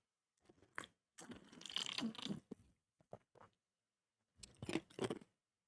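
Someone takes several close, noisy slurps of a Splite drink in separate short bursts with pauses between, and no talking.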